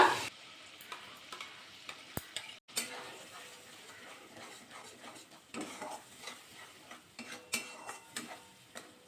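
Ground spice paste dropped into hot oil in a pan while cooking an eggplant dish, a steady crackling fry with scattered scrapes and utensil taps, fairly quiet and close.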